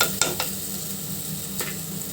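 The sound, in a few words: curry frying in pan while salt is added and stirred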